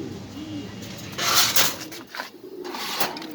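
Pigeons at a pigeon farm coo in soft, repeated low calls, mixed with rustling and a brief scraping sound nearby, all at moderate volume.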